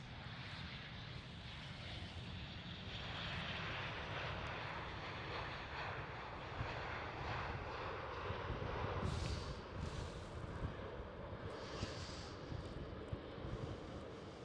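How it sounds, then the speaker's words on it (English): KLM Boeing 737 airliner at Amsterdam Schiphol airport, a steady broad jet engine roar heard from the outside at moderate distance, sustained throughout with some wind rumble. "Right here we do have a KLM"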